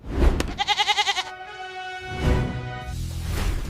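A goat bleats in a single loud, wavering call near the start, with a quivering vibrato and a second softer bleat trailing after, alone with no talk.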